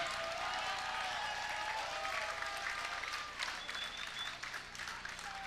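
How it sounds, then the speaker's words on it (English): Crowd applause at a kickboxing event after a fight, a broad wash of clapping and cheering that fills the hall, with faint voices and a few whistles mixed in. "How about a nice round of applause for these two great fighters and one hell of a fight, ladies and gentlemen."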